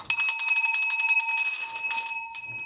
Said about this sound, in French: la grosse cloche de l'alarme s'est mise à sonner